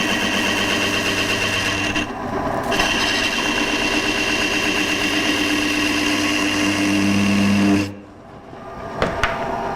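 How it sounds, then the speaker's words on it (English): A wood lathe spins at 500 RPM with a steady humming drone and rattling vibration for several seconds, then cuts off abruptly, leaving a quiet room with a couple of small clicks. "We're using just 500 RPMs on the lathe."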